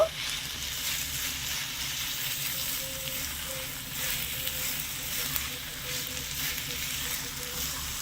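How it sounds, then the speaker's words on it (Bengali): Sago laddu mixture sizzles steadily in a pan on a medium-low flame, with a soft, continuous scraping of stirring throughout and no talk. "সবকিছু খুব ভালোভাবে নেড়ে ছেড়ে মিশিয়ে একটু পাক দিতে থাকবো"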